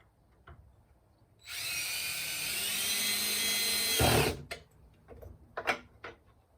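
A power drill drives a screw into a Flow Hive 2 leg kit, a steady whirring run of nearly three seconds ending in a thump, followed by light knocks and handling of the wooden parts.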